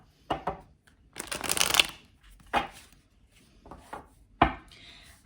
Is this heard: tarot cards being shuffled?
yes